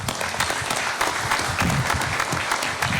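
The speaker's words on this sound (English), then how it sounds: "I would like to ask that we give him a big round of applause." Applause fills a congress session chamber, many people clapping in a dense, sustained burst at moderate loudness, with a faint murmur of voices underneath.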